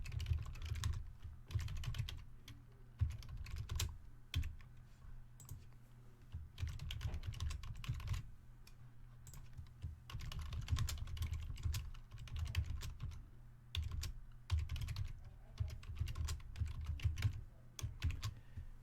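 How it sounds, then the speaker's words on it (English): Keys clatter steadily on a PC computer keyboard as text is entered, a close, fairly quiet run of quick taps in uneven bursts with short pauses throughout. "I'm just using the keyboard attached to my PC"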